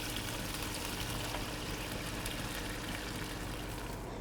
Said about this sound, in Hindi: 4 गिलास हमने इसमें पानी डाला है।